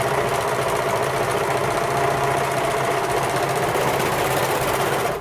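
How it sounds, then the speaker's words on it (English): A sewing machine stitches a plain seam in fabric, running loud and steady with a rapid, even mechanical chatter from start to finish, close up and without voices. "butt your fabric under the foot. The machine will pick it up."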